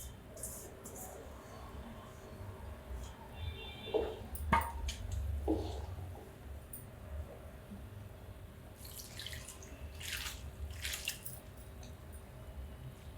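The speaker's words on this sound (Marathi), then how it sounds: "एक ग्लासभर पाणी ओतते फक्त" A glassful of water is tipped into a pan of mixed leafy greens cooking with chilli, garlic and coconut. A soft, brief pouring splash rises midway through a quiet kitchen backdrop.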